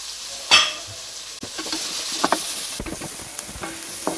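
Sliced onion with a little salt sizzles and fries in a hot pan, a steady crackle broken by a few sharp scrapes and stirs of a spoon, close and fairly quiet with no voices.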